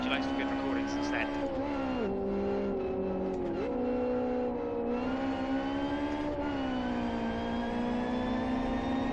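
A simulated racing car engine in the Live For Speed game drones steadily, its pitch rising and dipping with throttle and gear changes, loud and continuous throughout.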